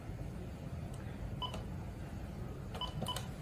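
An office telephone sends short dialing tones in two brief clusters of beeps over a steady background hiss, with no talk.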